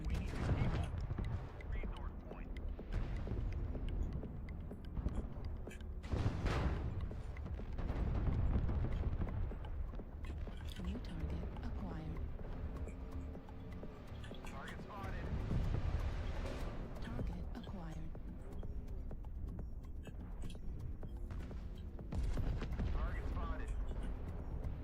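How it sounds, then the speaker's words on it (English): An artillery strike lands around a mech in a MechWarrior match, with several heavy, rumbling blasts and a thick low roar of combat. Someone talks over much of the action. "That's an artillery strike on me."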